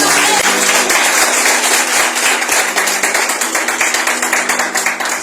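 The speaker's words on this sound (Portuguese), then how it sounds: "Você pode aplaudir de novo?" A church congregation bursts into dense, sustained applause, many hands clapping loudly and steadily throughout with a faint crowd murmur beneath.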